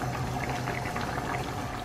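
Soaked rice poured into a pot of rolling boiling water for chicken biryani, a steady close watery rush and bubbling hiss that continues evenly throughout with no talking.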